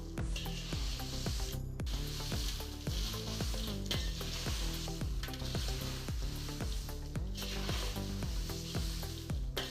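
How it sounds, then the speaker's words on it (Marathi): Two and a half kilos of red chillies roasting in a pan with turmeric mixed in, giving a constant close sizzle broken by repeated scraping strokes of a spoon as they are stirred, with no voices. "सगळ्यांना चांगलं मिक्स करून घेऊ सगळ्या मिरच्या चांगल्या भाजल्या जातील"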